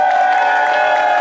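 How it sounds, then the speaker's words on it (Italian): Applause from a crowd at a winter festival dance with a live orchestra in a town square in Piazzola sul Brenta, loud and continuous, mixed with cheering. "forte forte l'applauso!"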